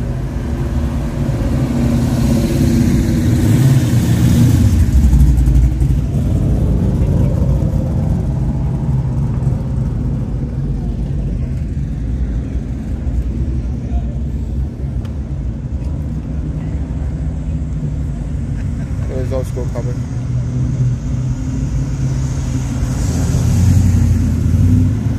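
Cars roll past at a Lake George car show in 2019, giving a steady close engine rumble with occasional revving swells and faint crowd voices underneath.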